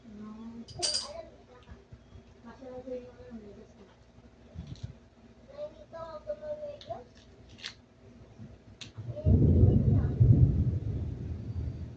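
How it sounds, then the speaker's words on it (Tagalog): People talk and dishes clink, then a loud rush of heavy rain suddenly begins near the end and continues steadily. "Ulan na naman oh."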